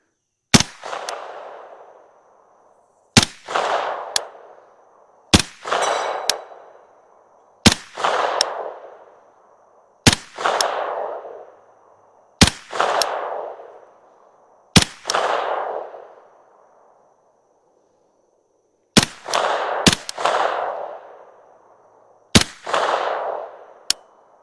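AKv9 rifle shots fired one at a time toward a distant steel target, about ten sharp cracks spaced a few seconds apart, each with a long rolling outdoor echo trailing off before the next.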